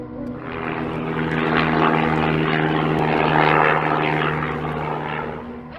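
A small propeller aircraft passes overhead, its droning engine hum with steady tonal buzz rising in loudness then fading, heard alone without voices.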